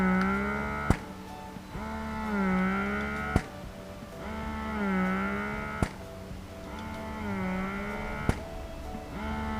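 The motor of a Spectra 9 Plus electric breast pump at its highest level hums and whirs in repeating swells, each cycle punctuated by a sharp click roughly every two and a half seconds, loud and close.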